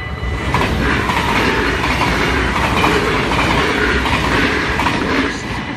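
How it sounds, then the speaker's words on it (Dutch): A train passes on the railway at Maasbracht, a steady loud rumble with rhythmic clickety-clack of wheels over rail joints, continuous and close throughout. "Ik denk dat nu de trein weer normaal kan rijden hoe het hoort."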